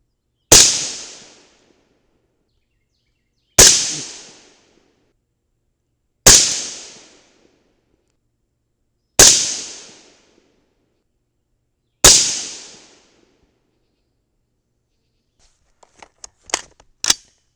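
Five sharp 5.56 rifle shots firing 55gr Sierra BlitzKing bullets over a Winchester 748 powder load at 100 yards, evenly spaced about three seconds apart, each a loud crack with a fading tail, followed by a few faint clicks.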